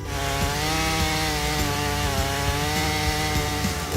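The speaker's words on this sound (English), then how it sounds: "For Swedish lumberjacks, Jonsered chainsaws have been proven companions for over 6 decades." A Jonsered CS2240 40.9cc chainsaw cuts through wood with a loud, steady engine whine that holds its pitch, with small dips as the chain bites in. It runs alone and close up.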